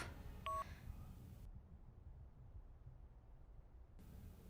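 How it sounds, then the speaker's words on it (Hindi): A brief burst of telephone dialing beeps sounds once near the start, then the line falls to a low, steady hiss with no ring or answer, as a call fails to connect. "ये राहुल का फोन क्यों नहीं लग रहा?"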